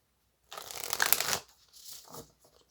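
Tarot cards shuffled by hand, a dense papery riffle of about a second, then a softer slide as a card is drawn, close and alone with no talk.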